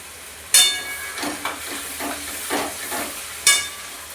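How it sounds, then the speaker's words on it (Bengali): Ginger garlic paste and red chili frying in oil rendered from rohu fish, a steady close sizzle with loud bursts as paste hits the hot oil and intermittent stirring scrapes. "আমি এখন এবার আদা রসুনের বাটা দিয়ে দিলাম, আর এখানে লাল লঙ্কা আর আদা বাটা দিয়ে দিলাম।"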